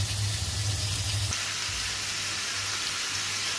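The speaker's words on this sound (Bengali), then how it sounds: "তেলের মধ্যে ভালো করে ভাজবো" A spiced mixture of onion and potato fries in hot oil, giving a steady close sizzle and crackle with a low hum that drops away partway through while the frying hiss carries on.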